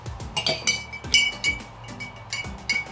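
A spoon clinks repeatedly against a glass container while a solution is stirred for a simple electrolysis experiment, giving bright, close tinkling taps in an irregular rhythm with no talking.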